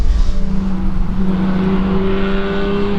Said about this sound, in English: Wagner in the Magna. Making the way around the bus stop chicane.